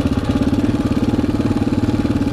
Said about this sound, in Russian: купил себе новый КТМ